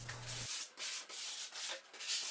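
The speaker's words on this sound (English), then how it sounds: "I'm going to use 220 grit sanding sponge pad here and just scuff up the entire surface" Close, rhythmic scratchy rubbing of a 220-grit sanding sponge scuffing a primed dresser surface in short repeated strokes.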